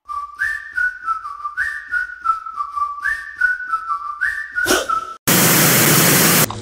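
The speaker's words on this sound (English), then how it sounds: "What are those fake whistles right at the beginning?" Synthetic whistle melody opening a pop hit from 2016: a repeating two-note whistled phrase over a rhythmic beat, loud and upfront, ending in a sweep and a burst of noise.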